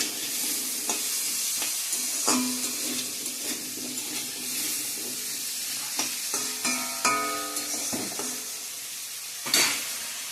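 Pumpkin pieces fry in a pan with salt and turmeric, a continuous sizzle broken by repeated scraping and clinking as a spatula stirs them, up close.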